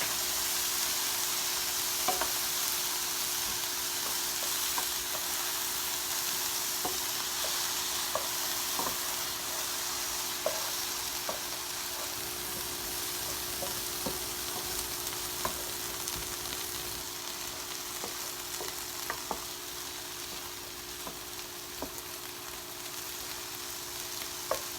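Onions, other vegetables and shrimp sizzle in a skillet for a cilantro ginger lime shrimp dish: a steady, close frying hiss dotted with sharp crackles and pops, with no talking.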